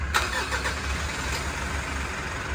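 A 2020 Mitsubishi Montero engine starts up after a crankshaft sensor replacement, a brief crank then a steady, close idle rumble holding for a couple of seconds with no talk.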